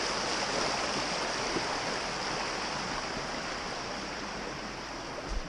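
Broad, steady rush of a creek flowing beneath a wooden trail bridge on the Mid-State Trail in Pennsylvania, a continuous wash of water with no talking.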